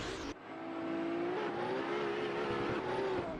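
Drift cars battle in lead and chase at a VDM Round 3 competition in Finland, engines screaming at high revs in a loud sustained wail that rises steadily, with tire noise underneath.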